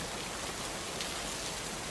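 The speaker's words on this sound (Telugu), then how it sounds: "వర్షం బాగా కురుస్తుంది" Heavy rain pours steadily near a forest bungalow, a dense, even hiss of drops that fills the whole moment with no voices over it.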